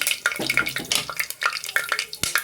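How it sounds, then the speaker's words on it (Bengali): Whole spices with cracked cardamom pods are tempered in hot oil for a Bengali mutton curry, giving close, sharp, irregular crackles and spits over a faint sizzle, with no talking. "এবার আমি এই তেলের ওপরে এই ফোড়নটা দিয়ে নেব।"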